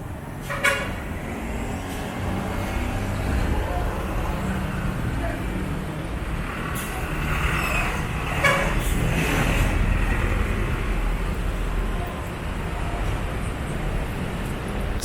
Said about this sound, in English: So you see more and more traffic in the road.